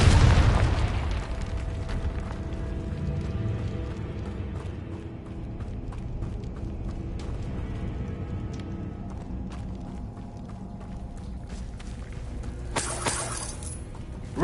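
A Confringo spell explosion in Hogwarts Legacy opens with a loud, deep boom that settles into a long rumbling tail, with scattered crackles and clattering debris after it.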